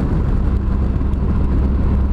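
A Honda CTX1300 motorcycle cruises along a highway, its steady low engine drone blending with dense wind rush at a constant, loud level throughout, with no voices.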